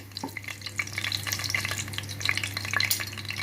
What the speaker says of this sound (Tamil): பிரிஞ்சி இலையை போட்டு இதை ஒரு கிண்டி விடலாம்